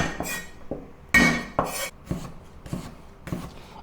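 A knife slicing ingredients for seasoned soy sauce on a cutting board, about eight crisp, close chops in an uneven rhythm, with one louder scraping stroke, alone without talk.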